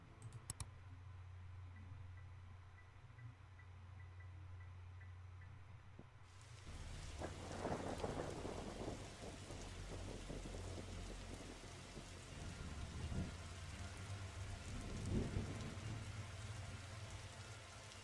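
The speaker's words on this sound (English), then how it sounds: "He must have seen the strange storm gathering over it." Steady rain from a thunderstorm in the video game Darkside Detective, a quiet hiss that swells into a louder patter with scattered clicking drops after a few seconds and continues without talk.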